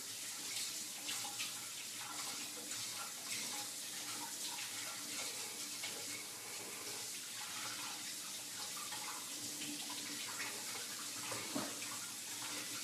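A kitchen tap runs steadily at home to rinse something off, a continuous hissing splash of water into a sink that stays even and close for the whole stretch with no talking.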